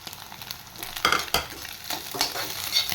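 Cabbage, carrot, green chillies and curry leaves fry in a hot pan for paneer egg fried rice, with a bright sizzle and repeated scraping stirs coming in uneven bursts close up.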